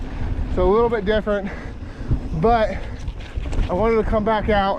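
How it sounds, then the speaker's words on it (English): Wind buffets the microphone during a mountain bike ride on a SCOR 4060 ST trail bike, a steady rushing roar under someone talking at close range. "It's real windy today"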